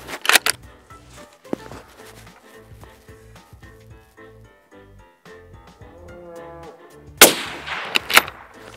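Sabatti Urban Sniper rifle shots crack out sharp and loud, one near the start and a pair near the end, with quieter shuffling and handling sounds between them.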